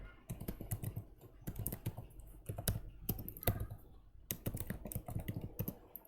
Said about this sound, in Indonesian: Kita ketik aja di sini analis, masukin IP-nya.